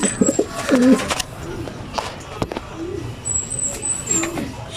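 A pigeon coos close by in low, throaty rolling calls, a few repeated phrases broken by pauses, with a person speaking softly over it and faint high chirps in the background.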